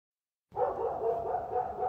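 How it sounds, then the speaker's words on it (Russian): A neighbour's dog barks continuously at night, a rapid run of sharp, fairly close barks starting abruptly after a moment of silence and repeating without pause. "Вот уже минут 40 или 50 она вот так вот, не останавливаясь, лает."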